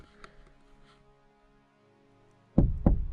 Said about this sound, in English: He's literally touching my truck. How am I supposed to get him away? He's literally knocking.